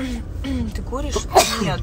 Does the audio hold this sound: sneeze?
yes